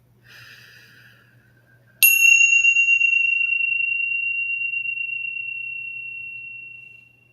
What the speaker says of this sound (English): So the bell is meant to bring us into our senses, what we can hear